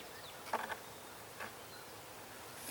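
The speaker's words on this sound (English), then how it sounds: "Bees are coming to it" Honey bees buzz faintly around exposed honey frames left out in an outdoor bee yard, a few soft passes drifting close and away against a quiet background.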